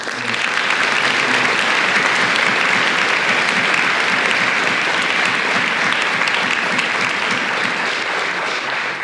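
A large audience at a school Cum Laude induction ceremony gives students a final round of applause, a dense, loud, unbroken roar of clapping that holds steady for the whole stretch.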